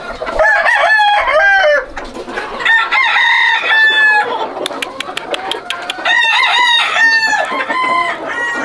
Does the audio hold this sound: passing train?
no